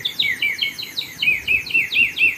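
A water-filled bird whistle toy is blown repeatedly, giving a steady run of close, warbling chirps that mimic birdsong in quick, rhythmic bursts with no talk.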